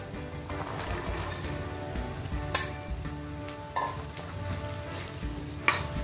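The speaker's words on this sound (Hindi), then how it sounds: "बीन्स को भी अच्छा मिक्स कर लेंगे।" Green beans frying in a pan for a curry while being stirred, a continuous sizzle with clinking scrapes of a spatula and two sharper metallic knocks, close and fairly steady.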